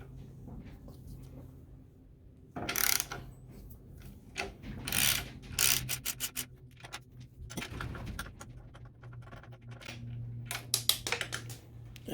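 A ratchet wrench undoes the nut on the rear shock bolt of a Yamaha T700 motorcycle, heard as bursts of rapid clicking ratchet strokes with pauses between them, close and fairly loud.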